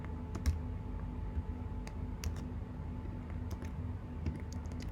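Computer keyboard typing during an HTML coding lesson, with scattered individual key clicks and short bursts over a steady low background hum, fairly close and quiet, with no talk.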